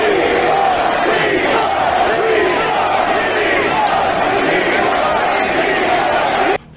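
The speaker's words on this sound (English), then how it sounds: "just listen to the crowd after this match happened" Wrestling arena crowd reacting angrily after a Hell in a Cell match, a loud, dense roar of many shouting voices with chant-like swells, continuous until it cuts off abruptly near the end.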